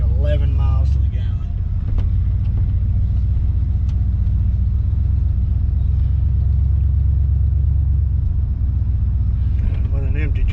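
Steady low engine rumble and road drone from inside a pickup truck on the move, with someone talking over it at the start and end.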